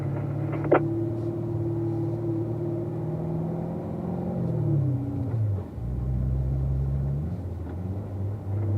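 A car engine pulls hard along a race track on a warm-up lap, its steady droning note holding, then dipping as the driver shifts up toward third gear and carries on at a lower pitch, close and continuous.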